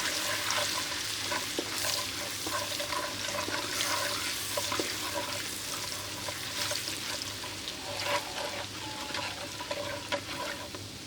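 Garlic ginger paste frying in a pan for an egg korma, a continuous close sizzle with scraping stirs and bubbling crackle throughout, loud and unbroken, no speech.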